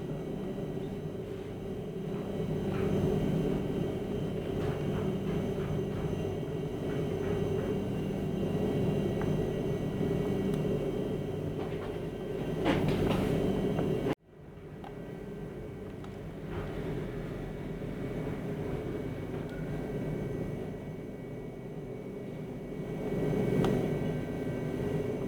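A Lama 315B helicopter's engine and rotor during takeoff produce a loud, continuous roaring drone with steady low rumble and whine, a brief cut midway, then the same sustained roar resumes, with no talk.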